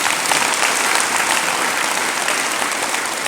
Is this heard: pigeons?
no